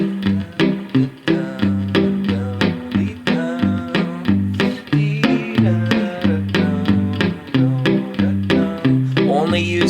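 Solo guitar played fingerstyle, a steady thumb-picked alternating bass under a plucked melody, close and clear with no talking.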